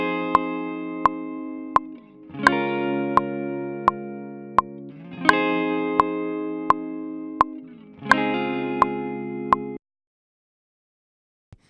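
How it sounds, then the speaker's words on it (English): Electric guitar recorded for an R&B session, wet track through a Kemper with effects: four sustained strummed chords with chorus and reverb shimmer, each swelling and ringing out, under a steady metronome click, ending in silence. "The track that you're hearing right now is the wet track,"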